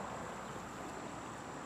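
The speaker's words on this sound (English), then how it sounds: "Here's a little look at our creek." A creek swollen after heavy rain flows steadily, a continuous broad rushing wash of water with no pauses, close and fairly loud throughout.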